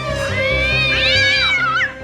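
Cartoon cat meowing and caterwauling in a Chhota Bheem animated episode, a long wavering, strongly harmonic yowl that rises and falls over about two seconds, loud and close over a low background music bed.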